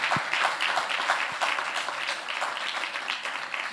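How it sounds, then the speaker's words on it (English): An audience claps for participants at a fintech challenge semi-final, a lively, fairly close patter of many hands holding steady throughout, with a couple of sharper individual claps standing out. "another round of applause for the participants"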